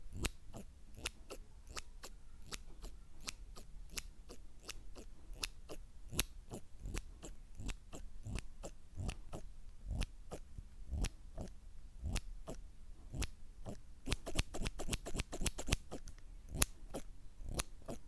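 Close metal scissors snipping hair in a rapid, uneven series of crisp clicks, intimate and quiet, with no voices.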